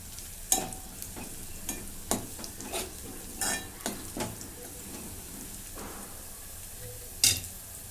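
Curry leaves drop into hot oil with browned onions, giving a soft continuous sizzle with scattered crackles and a few sharper pops, close and moderately quiet.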